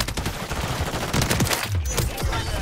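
Suppressed SVA 545 rifle gunfire in Modern Warfare III gameplay, a rapid series of muffled, thumping bursts that repeat densely across the clip, loud and close, with no talk over them.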